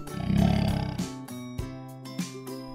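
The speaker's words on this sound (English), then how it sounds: "Lion." A cartoon lion roars in a children's animal-alphabet lesson: a deep, loud growling roar fills the first second, then fades under bright backing music.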